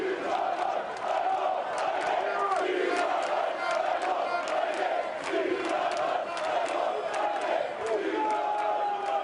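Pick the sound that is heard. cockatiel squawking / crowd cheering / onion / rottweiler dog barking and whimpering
crowd cheering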